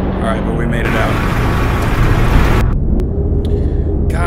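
Loud, dense truck engine rumble in DayZ Standalone, a constant roar filling the whole span with a brief drop near the end, while people talk over it.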